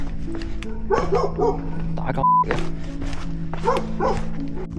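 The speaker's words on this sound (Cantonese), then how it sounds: "又有狗吠喎" A dog barks aggressively on a hiking trail in Hong Kong, a close run of sharp barks and yips mixed with whimpering, while people talk over it.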